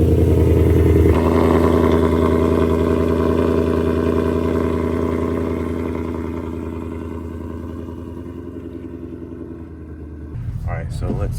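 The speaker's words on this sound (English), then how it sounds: "Put the window down so y'all could hear a little bit of the exhaust." A 2024 Ford Mustang GT with a loud exhaust and active mufflers drones steadily from inside the car with the window down. The deep rumble eases slightly partway through before a brief louder burst near the end.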